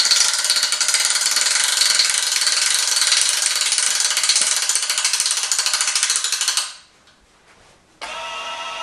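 Rapid ratcheting clicks from a ratchet wrench adjusting the limb bolts of a recurve bow, loud and close, running continuously for several seconds before a brief pause and resuming.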